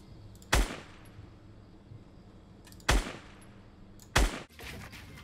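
Three sharp, loud gunshots ring out in a video game, evenly spaced about two seconds apart, each a crisp crack with a short reverberant tail over quiet ambient game noise.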